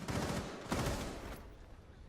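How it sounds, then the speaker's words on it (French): Bursts of gunfire in a competitive first-person shooter match, a Proleague/WinterCup final; dense, fairly loud volleys fill the first second and a half before tailing off into quieter game noise, with no talk. "Voilà, Gigafi qui met des balles"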